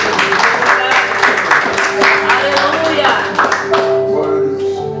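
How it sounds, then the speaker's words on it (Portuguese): Church congregation applause during a Portuguese-language sermon, loud rhythmic clapping in a reverberant hall over a sustained organ or keyboard tone, with voices underneath. "uma salva de palmas para você"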